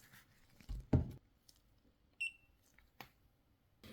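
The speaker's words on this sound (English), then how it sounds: "Sorry, my phone is going off." A mobile phone alert sounds during resin jewelry work, a short bright electronic beep tone standing out among faint clicks and handling knocks in a quiet room.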